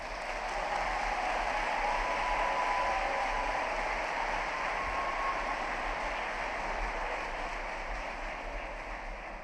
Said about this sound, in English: A round of applause for the Klein Society